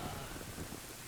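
Steady rain pours down in a cutscene from the video game The Legend of Zelda: Ocarina of Time, a dense, even hiss with a low rumble underneath and no voices.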